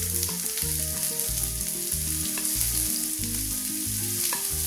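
Garlic and onion fry in sunflower oil, giving a steady close sizzle with a layer of bright crackle, while occasional stirring clinks and scrapes sound over a low background hum.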